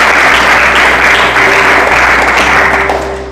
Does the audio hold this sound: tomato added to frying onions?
no